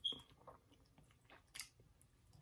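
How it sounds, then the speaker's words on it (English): Someone chews crunchy KFC Nashville chicken tenders close to the mic, giving a few soft, irregular crunching bites in a quiet room. "And she's crunching over there."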